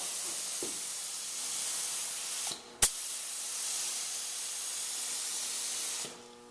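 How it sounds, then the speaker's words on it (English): An HVLP spray gun spraying wood finish onto a bottom rail hisses in two long continuous bursts, broken by a short pause and a click, close and steady. "you can spray at low pressure with this high volume, low pressure gun, HVLP"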